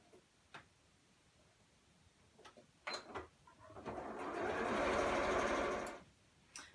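A sewing machine stitching a quarter-inch patchwork seam, a steady close whirring run of about two seconds, preceded by a few scattered clicks and taps of fabric handling and followed by another click.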